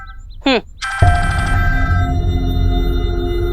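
A mobile phone ringtone starts after a short chirp and rings on as a steady tonal pattern over a low background hum, close and clear, with no talk.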